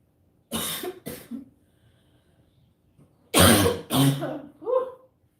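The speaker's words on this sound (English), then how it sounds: "it's one of those coughs, man, that you freaking lose your breath." Two bursts of harsh coughing, a pair of quick coughs followed after a pause by a louder, wheezier fit of three, close to the listener.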